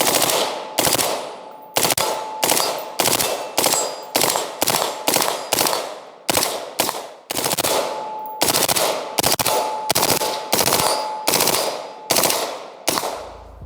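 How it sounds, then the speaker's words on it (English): A rifle fires full-auto in repeated sharp bursts, loud and close outdoors, each short string of rapid shots followed by a brief pause, with no talk. "this is why this gun is pretty awesome, is the control, how much you can control it full auto."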